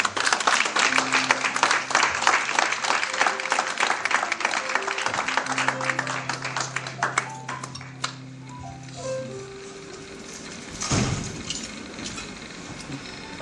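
A wedding congregation in Paris applauding, steady close clapping from a crowd for several seconds before it thins out and fades, with sustained organ or keyboard notes beneath.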